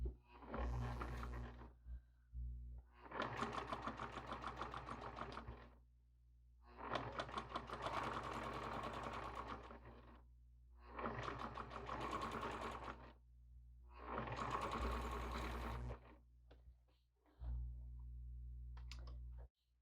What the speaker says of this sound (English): So now I have my first stitch of the French seam stitched.